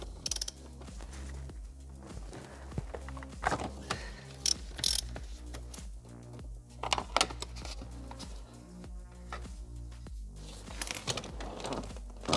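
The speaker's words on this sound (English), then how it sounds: "I need to remove the front screws, they are with T50." Torx T50 screws being worked loose from a BMW E60 seat with a ratchet: steady clicking of the pawl, tool clatter and shuffling of metal parts close by, continuous at moderate level with no talk.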